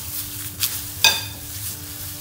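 Dried rose petals being stirred into homemade bath salts, a soft granular scraping and rustling with two brief sharper clicks of a utensil against the container, quiet and close.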